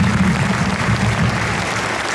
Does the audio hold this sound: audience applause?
yes